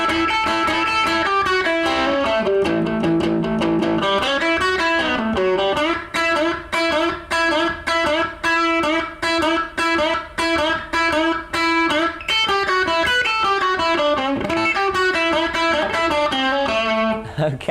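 Distorted electric guitar plays a song intro at full speed, with fast double-stop licks and bends followed by rapid, rhythmic repeated picked notes, loud and alone.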